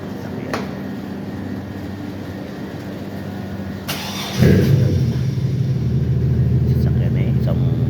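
A car engine cranks and catches about halfway through, then settles into a steady close idle rumble with a hum of air conditioning, heard from inside the vehicle in Qatar.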